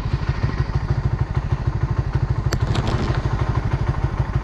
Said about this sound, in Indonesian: Korang just tekan sekali je, nanti motor ni terus start.